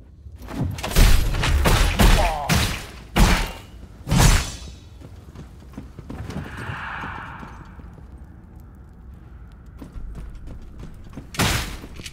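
Enemy gunfire in the souls-like action game Deathbound: a cluster of sharp, loud shots and heavy thumps in quick succession, then a quieter stretch with one more burst near the end.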